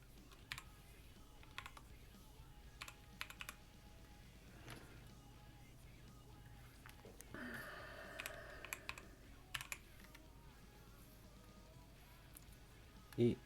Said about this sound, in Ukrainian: І пишемо ось таку команду.